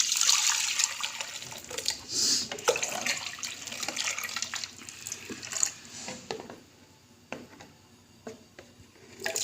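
Gram flour lassi is poured into fried masala in a cooking pot, giving soft, quiet liquid pouring and splashing with a few small clinks, fading in and out.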